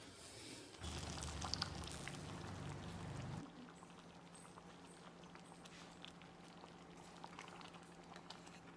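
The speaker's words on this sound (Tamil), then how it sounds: "சாம்பார் நல்லா கொதித்து வந்துடுச்சு" Sambar bubbling at a boil in a pot, a loud seething and popping for the first few seconds that then drops to a quieter, steady simmering hiss with scattered small pops.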